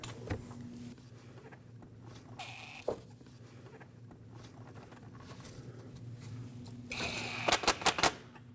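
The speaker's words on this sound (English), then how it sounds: "let's tighten up our clamps with your 8mm socket" An 8mm socket ratchet tightens hose clamps while multiple displacement solenoids are replaced on a 2009-2010 Dodge Ram 1500, giving a burst of quick close clicks near the end over a low steady hum.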